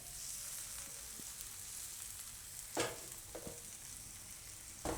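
Bajra uttapam cooking on its second side on a hot pan, a steady soft sizzle with occasional sharper crackles and light scrapes, close and without talk.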